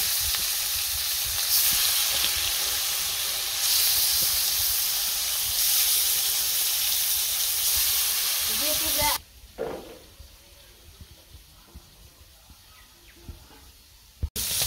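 Turmeric-coated fish fries in hot oil with a loud, steady sizzle for about nine seconds, then the sizzling cuts off sharply and only faint background noise remains, with a brief clatter at the end.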